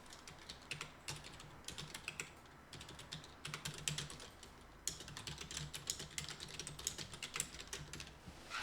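Fingers type on a computer keyboard in quick, uneven bursts of close, crisp key clicks with brief pauses between runs, heard alone and fairly quiet.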